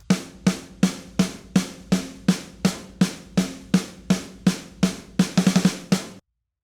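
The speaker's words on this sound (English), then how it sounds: "The snare sounds like this." Punk rock snare drum mixed in Logic, hit in a steady run of sharp, cracking strikes roughly twice a second, ending in a quick flurry of rapid hits before stopping, heard alone.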